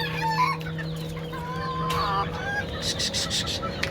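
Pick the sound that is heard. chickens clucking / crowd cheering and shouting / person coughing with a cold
chickens clucking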